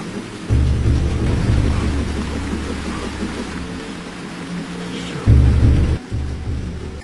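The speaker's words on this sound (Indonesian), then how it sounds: "berlari di antara derasnya hujan" Heavy rain pours steadily while deep rumbles of thunder roll in loud low bursts, a dense continuous downpour.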